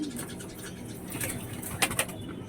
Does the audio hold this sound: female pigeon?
yes